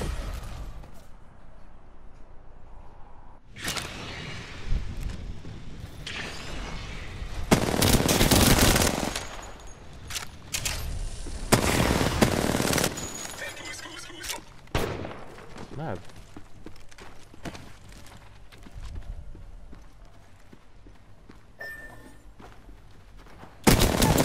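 Bursts of automatic gunfire in a video game, loud volleys clustered near the start and middle, then scattered shots tapering off, with players talking over parts of it.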